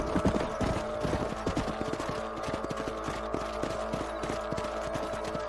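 Horses trot across open ground in Red Dead Redemption, their hooves clopping in a steady, rapid rhythm at close range, with faint tack and mechanical rattles beneath and no talking.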